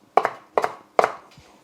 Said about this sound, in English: Now you want to just keep chopping the parsley up all through the parsley